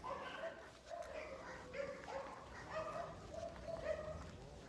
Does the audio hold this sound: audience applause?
no